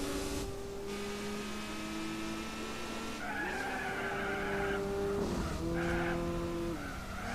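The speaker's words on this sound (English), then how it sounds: "This is just hard braking." A race car braking hard in Gran Turismo 4, its tires squealing in a loud sustained skid with shifting pitch over a constant engine drone, close and with no talking.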